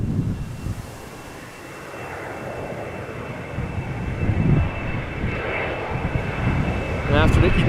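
Embraer 190 jet airliner at Amsterdam Schiphol Airport, a steady broad engine roar that swells slightly toward the end, with people talking over it.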